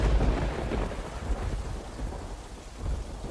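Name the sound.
thunder and rain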